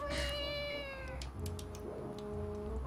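A cat meows in the video game The Legend of Zelda: The Wind Waker, one drawn-out rising-and-falling cry near the start over steady game music, with a few quieter tones after.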